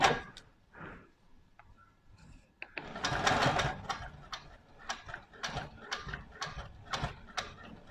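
A sewing machine stitches fabric with a quarter-inch square foot, starting with a few separate clicks and handling noises, then running in a fast rhythmic whir of needle and gears, close up.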